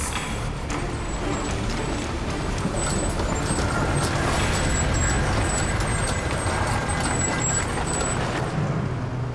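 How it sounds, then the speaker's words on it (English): A heavy tow truck pulls a tractor unit out on a highway recovery scene, its diesel engine rumbling steadily and loud throughout with a hiss of air brakes over broadband road noise. "I'm gonna keep pulling out the tractor."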